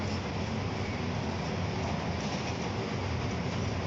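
An AC local commuter train in India running at over 100 km/h, heard from inside as a steady, loud rumble and roar of the wheels and carriage with no pauses and no talk.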